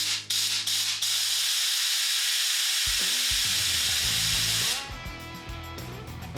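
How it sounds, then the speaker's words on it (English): Compressed air blasts through an oil hole in a vintage engine case as a loud, steady, close hiss lasting several seconds, with short bursts at the start and some low mechanical hum and rattling underneath. "You just take some compressed air, make sure this plug is in."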